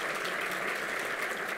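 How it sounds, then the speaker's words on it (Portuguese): Audience applause at a telecom industry panel in Brazil as panelist Eurico Teles is welcomed onstage; a steady, even wash of many hands clapping at moderate volume, continuous and without voices. "Peço uma salva de palmas a ele."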